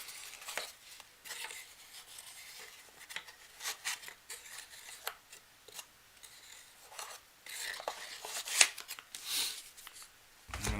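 Tarot cards are shuffled and handled quietly and close up, producing a long run of soft, irregular papery slides, taps and riffles with small gaps between bursts.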